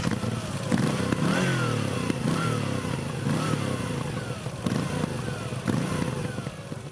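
A Moto Guzzi V9 motorcycle with an 853 cc air- and oil-cooled 90-degree transverse V-twin runs loud and close, its engine note repeatedly rising and falling through revs and gear changes over a steady rumble.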